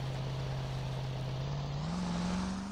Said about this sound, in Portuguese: Lancha, lanchona com o motor pra fora